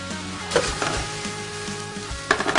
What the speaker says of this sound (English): Break up this meat a little bit more.